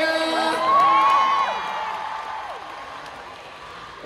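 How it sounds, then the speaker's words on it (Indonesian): A fan-meet crowd in Jakarta cheers and screams with scattered applause, a loud burst of high shrieks early that gradually fades to lighter clapping. "Boleh berikan tepuk tangan yang paling meriah."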